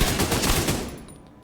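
A rapid burst of King Breaker rifle fire in The Division 2, loud, close and rattling for about a second before fading out.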